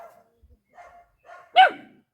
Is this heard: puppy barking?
yes